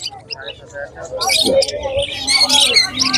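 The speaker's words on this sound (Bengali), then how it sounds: "আর এটা হচ্ছে পকেট বার্ড বলে, এটা আপনার প্যারোলেট, প্যারোলেট" Parrotlets, sold as pocket birds, chirp and squawk at a busy bird market, with bright overlapping calls close by and people's voices mixed in.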